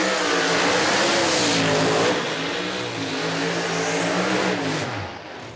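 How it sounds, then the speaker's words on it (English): The Norco Pontiac drag race car accelerates hard down the strip at the Snowbird Outlaw Nationals, Bradenton Motorsports Park. Its engine roars loud and steady, rising in pitch, then fades as it pulls away. "and for Nick Taylor, it's the Norco Pontiac."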